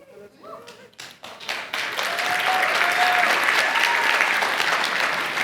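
A few scattered claps and thumps give way to full audience applause at a leadership talk, swelling into loud, sustained clapping that holds steady to the end.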